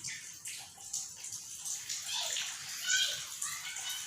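Pani puri shells are dipped into flavoured water, giving a continuous soft watery sloshing and splashing up close, with faint talk in the background.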